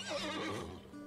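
A lost foal whinnies in the video game Trails of Cold Steel 2, a single short, close, wavering neigh lasting about a second, alone without talk.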